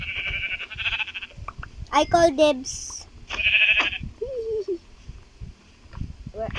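Blocky sheep in Minecraft bleat in short bursts, fairly close, alternating with a player's voice talking over a faint game background.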